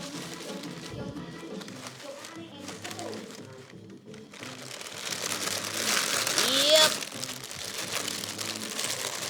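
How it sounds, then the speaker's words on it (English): Plastic packaging crinkles loudly and continuously close by during Christmas cake and banana bread baking, growing louder toward the end, with a voice talking over it. "there's so much crinkling"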